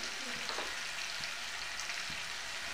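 Cauliflower coated in masala, chutney, chili powder and turmeric fries in oil with a dense, even sizzle and soft stirring scrapes, close but moderate in level.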